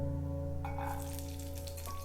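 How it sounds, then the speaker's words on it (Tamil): Masala frying in a pan for garlic kuzhambu, a soft sizzle under a steady kitchen hum, with faint stirring and a light clink. "இப்போ நம்ம இதில் வந்து குழம்புக்கு வந்து மசாலா வந்து வதக்கி எடுத்துக்கலாம்."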